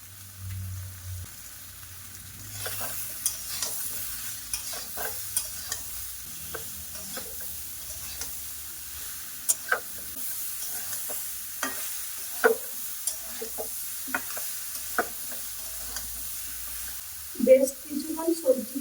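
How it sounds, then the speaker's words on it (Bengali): Vegetables stir-fried in a pan for a Bengali curry, with steady low sizzling and repeated clinks and scrapes of a spatula stirring through, and a brief louder rattle near the end; no one speaks. "বেশ কিছুক্ষণ সবজিকে কষে নিয়েছি।"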